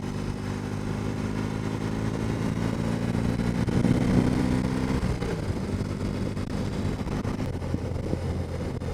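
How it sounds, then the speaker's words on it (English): A 2022 BMW R18 Classic motorcycle with an 1800cc engine being ridden, its steady low engine drone continuous under heavy wind rush from the onboard position. "This is a BMW R18."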